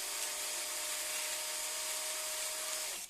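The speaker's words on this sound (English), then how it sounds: "start sanding it." Sandpaper rubbed along a tapering wooden mast for an H.M.S. Victory cross-section model, making a steady, close, hissy scratching for a few seconds with no talking.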